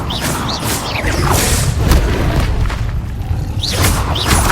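An Incendio fire spell is cast in Hogwarts Legacy, giving a loud, rushing burst of flame with whooshing crackle and low booming body, fading slightly before a fresh surge near the end, with no talking.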